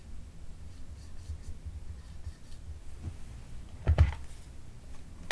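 A marker draws an X on tape during the repair of a Minolta XL-400 Super 8 camera. The faint, close scratchy strokes are quiet, with a brief louder handling bump near the end.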